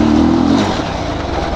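A motorcycle engine revs loud and close during an off-road ride, a dense, steady roar that eases slightly partway through.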